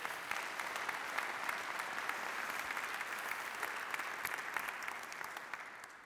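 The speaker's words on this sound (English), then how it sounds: "I want a round of applause." Sustained audience applause fills a hall during a lecture by Lord Christopher Monckton in St. Paul, steady and dense from start to finish without a break, many hands clapping at once.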